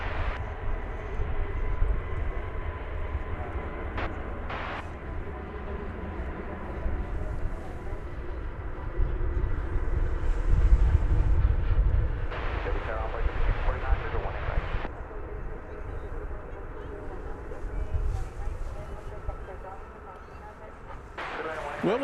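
An Embraer Phenom 350 or 300 NetJets business jet at DFW Airport gives a steady distant jet whine and rumble, swelling midway, with a dog barking briefly and voices talking over it.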